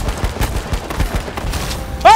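Gunfire in the H1Z1 battle royale game, a rapid burst of shots firing in quick succession, loud and close, followed by a sharp tonal sound at the end.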